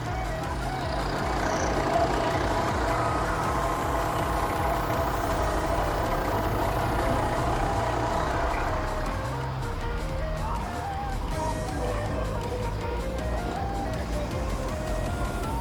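A 2015 Tata Indica LS car engine idles, a steady low rumble with a faint rattling texture, held continuously and fairly close over its whole length.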